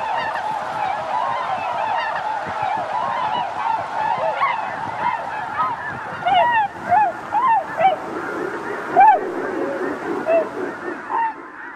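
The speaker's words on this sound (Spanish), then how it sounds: "un imán para las bandadas de aves acuáticas, como por ejemplo los cisnes trompeteros" Waterfowl honking in a chorus of overlapping calls on a lake near the Mississippi River, identified as trumpeter swans; loud, repeated trumpeting notes rise above a steady background wash throughout.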